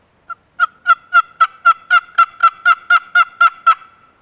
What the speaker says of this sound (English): strike it across the box, making some yelps